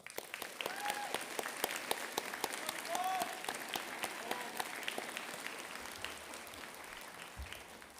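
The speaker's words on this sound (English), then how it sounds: "let's have a big round of applause" A crowd applauds supporters at a 2025 commencement ceremony, steady scattered clapping with distinct sharp claps standing out, a few faint voices underneath.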